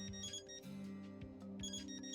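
A phone rings faintly in the video game Death end re;Quest, with a soft repeating electronic ring over a steady, low background of game music.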